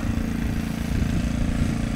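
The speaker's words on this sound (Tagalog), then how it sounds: "Maandar yung narinig nyo yung generator." A generator engine running to pump water, a steady mid-pitched mechanical drone with constant loudness and no talk.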